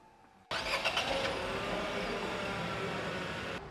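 A Nissan Magnite car engine started remotely: a quiet lead-in, then the engine catches abruptly and settles into a steady, fairly loud idle that continues to the end.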